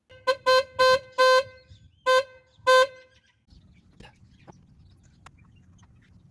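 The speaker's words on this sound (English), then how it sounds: "this horn just decided now it's going to work" A car horn sounding on a vehicle after its fault cleared: six loud, close honks in a quick irregular burst, the last two spaced apart, then a quiet workshop background with a few faint clicks.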